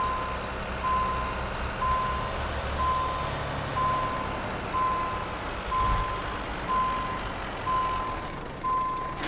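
Reversing beeper on a Volvo Globetrotter truck in Euro Truck Simulator 2, a steady string of evenly spaced single beeps repeating over a low idling engine rumble, no talking.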